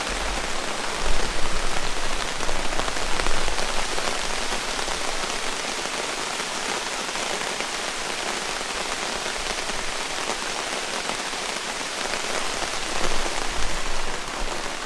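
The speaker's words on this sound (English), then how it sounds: "it is absolutely pouring down rain. I left the awning up just to see how it's going to handle it." Heavy rain pours without letup onto a raised camping awning at a moto campsite, a dense, close, steady hiss of drops drumming on fabric, slightly swelling at moments, with no voices.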